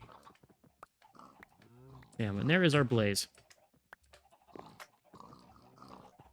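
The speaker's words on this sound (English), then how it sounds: "Oh, those pigs are getting loud." Pigs in Minecraft Skyfactory 4 let out a loud, close burst of oinking and squealing in the middle of the clip. Someone talks before and after it, over frequent keyboard and mouse clicks.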